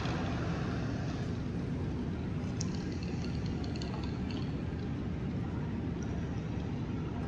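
An airliner roaring under reverse thrust on a night landing in Microsoft Flight Simulator, a steady loud broadband engine rumble that holds evenly without letup.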